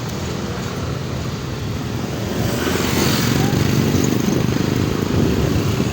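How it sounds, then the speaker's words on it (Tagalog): Many motorcycles, likely food delivery riders' bikes, rumble on a crowded sidewalk, a continuous loud engine and traffic drone that swells slightly midway, with no clear talking. "ang daming motor sa sidewalk."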